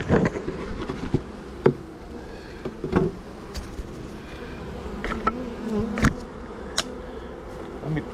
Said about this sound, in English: Look at the bees pouring out of that thing.